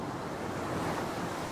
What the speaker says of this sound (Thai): ดูจอแล้วฟังเสียงคลื่น